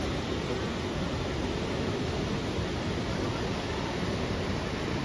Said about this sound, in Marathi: फायनली आपण आपल्या समोर आहे धबधबा.